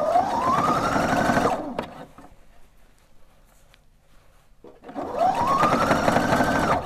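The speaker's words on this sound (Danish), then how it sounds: "Så fik jeg syet stikningen rundt i kanten" A sewing machine stitches around the edge of a child's elephant hat sewn from a Minikrea 50600 pattern, running in two steady buzzing stretches separated by a quiet pause.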